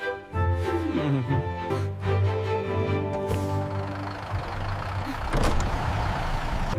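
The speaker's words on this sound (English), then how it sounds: "I hear the bus outside." A bus engine idles and rumbles outside a home, a steady low vehicle drone with a brief door-like clatter partway through.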